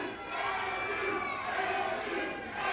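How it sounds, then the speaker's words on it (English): Wrestling crowd at a 901 Wrestling main event in Memphis, Tennessee, chanting and cheering as one continuous dense roar of many voices, steady and loud throughout. "The crowd chanting for the star of the show as he just got a headbutt"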